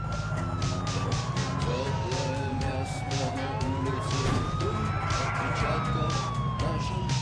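An ambulance siren in GTA wailing up and down in a long sweep over a busy engine and traffic drone, with scattered clicks and faint voices.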